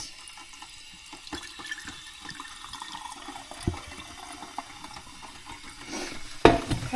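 Bone broth pours and trickles steadily through a strainer, growing into a louder splashing gush toward the end; no talking.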